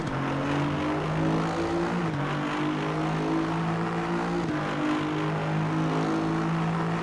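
Aston Martin V8 GT3 race car in the ACC racing game, its engine revving hard and climbing through gears with a steady, loud, close drone and a couple of clear shift drops, no voices.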